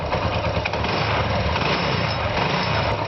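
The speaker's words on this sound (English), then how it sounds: "now I crank the engine" A small engine runs steadily after being cranked, giving a loud, continuous buzzing drone close by with no breaks and no talk.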